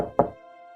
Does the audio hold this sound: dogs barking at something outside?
no